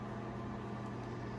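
A microwave oven runs steadily while khoya cooks inside, giving a constant low hum with a faint fan-like hiss, even and unbroken throughout.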